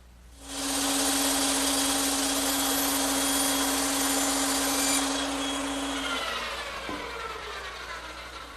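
A bandsaw cuts through wooden Adirondack chair slats: the motor hums loudly and the blade rasps steadily through the wood for several seconds, then the hum winds down after the cut finishes.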